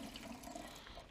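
Liquid, likely homemade wine or juice, pouring steadily from a container through an air hole, a faint continuous gushing rush with no glugging and no talking.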